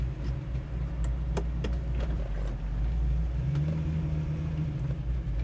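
1968 Chevrolet Camaro with an LS1 V8 running and revving, a deep steady rumble with low throbbing pulses that swell into a brief rise in revs, a few clicks and knocks on top.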